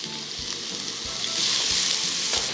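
Onions sizzle steadily in hot oil for chicken fried rice, with a few soft thumps from stirring in the pan. The frying is fairly quiet and there is no talking.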